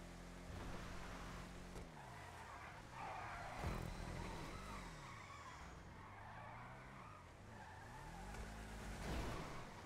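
Car tyres with no grip skid and squeal in GTA 5 on a hilly parkour race course, a continuous faint screech over a wavering engine whine for the full stretch.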